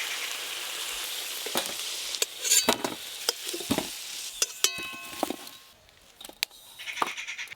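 Potatoes frying in oil in a pan during home Bengali cooking, a steady sizzle broken by sharp scraping and clinking stirs, close up, quieting briefly before more stirring and sizzling resume.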